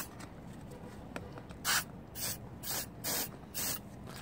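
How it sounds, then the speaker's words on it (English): Brake cleaner sprayed onto GY6 scooter variator clutch parts in short close hissing bursts, about five sprays in quick succession with brief pauses between them. "Give it a good spray using the brake cleaner here."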